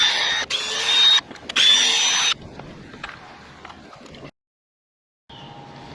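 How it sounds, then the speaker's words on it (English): A power drill backs Torx screws out of a post on a building. Two loud, close whirring bursts come first, then softer rattling and a brief silence before a quieter tail. "All right, let's take out our torque screws."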